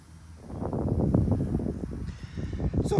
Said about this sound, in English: sorry about the wind. It's a little windy.